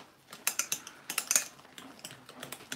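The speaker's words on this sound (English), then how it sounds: "Whisking these babies up." Ingredients for potato tacos whisked in a bowl, a quick run of light clinking taps that bunch into bursts and then ease off, close by and fairly quiet with no talking.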